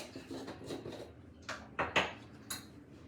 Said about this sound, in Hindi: एक बार मैं इसको अच्छी तरह मिक्स कर लेती हूँ।